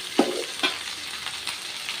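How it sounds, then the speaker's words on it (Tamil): Sliced okra sautéing in oil crackles softly in a pan, with a few brief louder sizzle bursts over a low steady fizz and no voices. "இந்த எண்ணெயிலேயே நல்லா வதக்கி எடுப்போம்"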